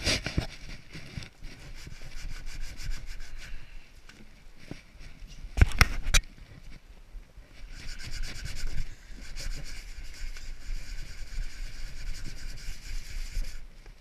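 Coarse-grit sandpaper rubs back and forth across a wooden workpiece in rough, rhythmic strokes, close up. The sanding comes in uneven bursts with short pauses and one sharp knock between passes.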